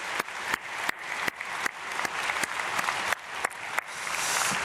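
Church congregation at an early-morning Korean prayer service applauds a family after a testimony, heard as continuous crowd clapping punctuated by sharp, closer claps at irregular intervals.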